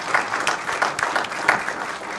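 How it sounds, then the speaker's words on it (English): Steady applause from the audience at a city council regular meeting, moderately loud with individual claps standing out briefly. "Let's give them a big round of applause."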